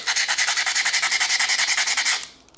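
Coarse 100-grit sandpaper scrubs rust off a carbon steel Opinel knife blade in fast, even back-and-forth strokes, about ten per second, loud and close, stopping abruptly near the end.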